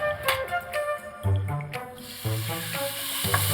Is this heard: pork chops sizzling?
yes